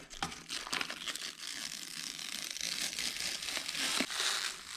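Plastic packaging from a KitchenAid toaster is crinkled and crushed up close, giving a continuous crackling rustle with sharper crunchy bursts throughout.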